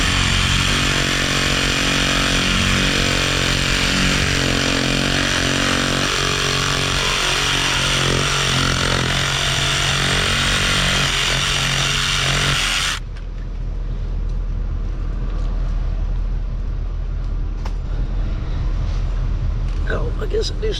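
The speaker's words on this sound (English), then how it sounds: "I'm gonna cut this pipe back just a hair." A reciprocating saw cuts steadily and loudly through buried water pipe during a rocky waterline repair, then stops abruptly, leaving quieter background sound with faint clatter.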